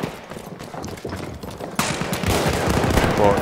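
Automatico submachine gun in Battlefield 1, heard as dense rapid automatic fire that grows louder and fuller partway through, with battlefield noise and a voice briefly underneath.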